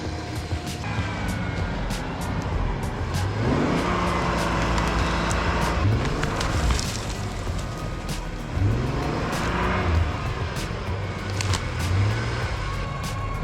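A Ford Explorer on a snowy, icy road strains in two surges to drag a pine tree off the road on a recovery rope, its engine revving loud and close with rising, sustained roars and no talking.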